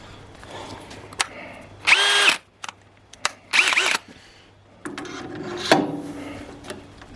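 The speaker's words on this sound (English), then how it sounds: "make sure that drill is straight" A power drill whirs in two short bursts as it bores outboard mounting holes into wood on a boat, with clunks and handling noises around them and a longer rough grinding afterward.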